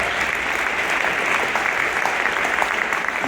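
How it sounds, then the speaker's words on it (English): Steady, full applause from an audience at a high school jazz band senior recognition, honoring a graduating band member; dense, even clapping with a faint crowd murmur, continuous throughout. "So one more round of applause for Savannah."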